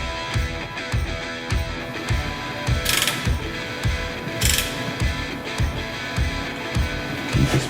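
A ratchet clicks in a steady, repeated rhythm while tightening bellhousing bolts on a TKX 5-speed transmission, close and fairly quiet, with a couple of brief brighter metallic scrapes.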